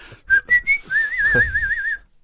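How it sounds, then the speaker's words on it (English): A man whistles close up: three short rising notes, then one long sustained tone with a warbling vibrato, clear and alone against a quiet background. "I'm concentrating on whistling"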